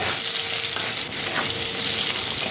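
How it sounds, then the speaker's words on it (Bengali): Mango pieces frying in a pan, a dense, loud, unbroken sizzle heard up close with a brief stirring scrape near the middle. "একটু আমটা ভেজে ভেজে নেব"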